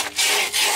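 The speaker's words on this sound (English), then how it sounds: "sandpaper it a little bit." A short burst of sandpaper rubbing across PVC pipe: two quick, close scratchy strokes, fairly loud, with nothing else heard.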